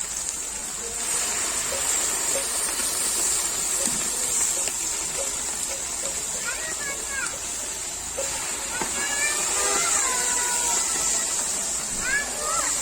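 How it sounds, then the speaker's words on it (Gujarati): Asafoetida and ginger-chilli paste sizzle in hot oil for a tempering over a wood-fired stove on a rooftop, a steady bright hiss running throughout beneath a talking voice. "હિંગ નાખી અને આદુ મરચાં જે પેસ્ટ કરી હતી એ આપણે નાખી દીધી છે વઘાર એનો જ કરવાનો"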